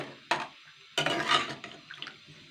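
Kochu loti (taro stolons) are stirred in a cooking pot with a ladle, giving two bursts of wet scraping and sloshing against the pot with softer clinks in between, close and moderately loud.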